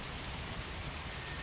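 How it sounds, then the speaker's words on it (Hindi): Rain falls steadily on a house as an even, faint wash of patter and hiss with no break or other sound. "अब बारिश अचानक आ गई"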